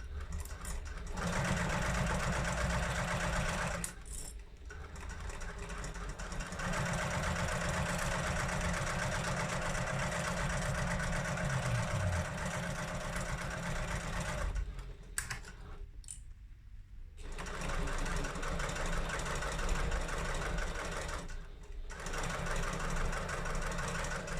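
A sewing machine fitted with a Teflon foot stitches a vinyl crossbody bag strap, its steady rapid mechanical whirr running loud and close with a few brief pauses between bursts.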